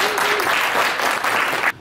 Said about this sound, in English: So I think that deserves a little round of applause.